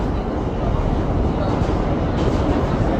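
A Bronx-bound New York City 6 local subway train running between stations, a loud, dense, continuous rumble of wheels and car noise heard from inside the car.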